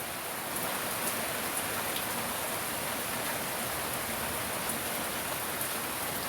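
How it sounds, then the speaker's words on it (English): Rain falls steadily outdoors, a dense, even hiss of drops on surfaces that continues unbroken for several seconds with no talk. "Already rain coming out here."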